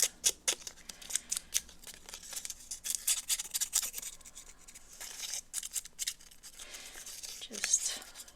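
Scissors snipping and scraping at collage paper to rough up its edge, a run of quick crisp cuts followed by rustling paper handling, close by with someone speaking softly over it.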